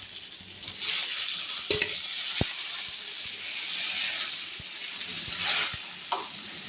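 Paneer going into spiced masala that has been fried until its oil separates, in a pan for a Bengali curry with pointed gourd; a steady broad sizzle with scraping stirs and a few sharp clinks of a utensil on the pan.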